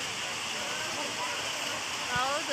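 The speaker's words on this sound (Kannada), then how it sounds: "ಮಳೆ ಬರ್ತಾನೇ ಇದೆ" Rain falls steadily at the Kateramma Devi temple as an even, soft hiss throughout, fairly faint, with a brief vocal sound near the end.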